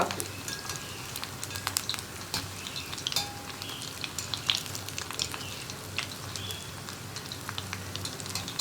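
Golibaje batter balls bubble and crackle while deep-frying in hot oil, a close, steady sizzle with scattered pops and faint utensil clinks.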